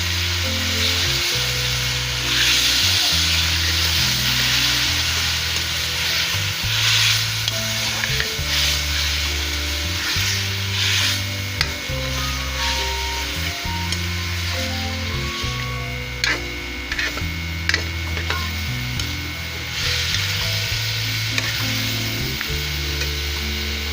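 Onion and chilli paste frying with powdered spices in a pan for a bitter gourd and meat curry, a steady loud sizzle with repeated stirring scrapes throughout, no voices.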